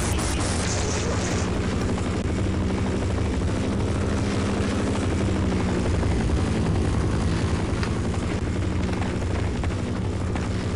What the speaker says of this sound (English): Man, that chopper is on a rampage.